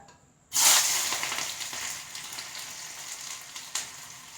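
Small onions tipped into hot coconut oil in a pan for a Kerala paal kappa dish burst into a sudden loud sizzle that settles into a steady, close crackling hiss with a few brief spits, no voices.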